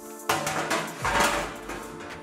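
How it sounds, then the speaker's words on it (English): Aluminum tray set over a stovetop flame while making Turkish kazandibi, with a sharp metallic clank followed by a few lighter rattles and scrapes nearby. "I add the aluminum tray over the fire."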